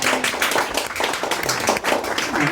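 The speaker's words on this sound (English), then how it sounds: "Oh, yeah, round of applause" Audience clapping for a local author coming up at an open mic night in a bookstore, a steady dense patter of hands throughout, fairly close and loud, with a few voices mixed in.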